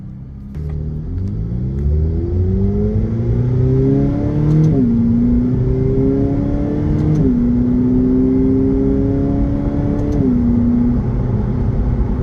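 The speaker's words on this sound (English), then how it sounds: "Alright, we're going to do a quick test drive here." A 2022 Ferrari F8 Tributo on a test drive, its engine loud and close, revving up through several gears with clear upshifts and a steady droning rumble between them.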